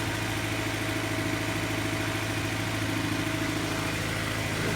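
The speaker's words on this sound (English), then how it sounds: "kind of a high idle" A Honda CR-V B20Z engine idles steadily at a fairly high speed after a valve adjustment, a constant hum with a faint rough pulse and no voices.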